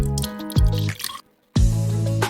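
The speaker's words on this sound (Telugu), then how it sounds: "వేడి నీళ్ళలు కొంచెం కొంచెం పోసుకొని గరిటెతో కలుపుకోవాలి" Hot water trickles in small pours into flour for jantikalu dough while a ladle stirs, giving close, loud wet splashes and squelches in two bursts separated by a short silence.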